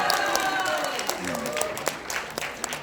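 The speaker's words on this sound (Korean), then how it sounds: "박수 부탁드립니다" Applause from an audience at a Korean political talk event, a moderate wash of clapping heard from some distance with voices talking over it.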